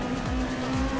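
In Gran Turismo Sport, a Lexus-based Amazon RC F Super GT race car spins out with a sustained tire squeal over the engine's drone, in one brief continuous burst.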